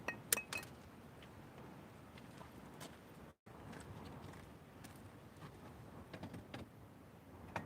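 Rocks knocked together give a few bright, glassy clinks like glass or metal, close and fairly quiet over a steady low background hiss.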